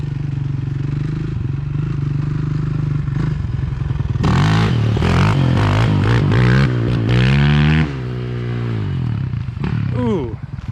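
Honda TRX ATV engine, a TRX450 or TRX400, revving hard during a wheelie attempt; a steady idle builds into loud, rising-and-falling throttle bursts with clattering, then settles back, close by.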